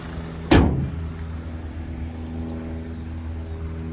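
A 2025 Toyota Corolla Hatchback SE's 2-liter naturally aspirated four-cylinder idles with a steady low hum throughout, after a single sharp thump near the start.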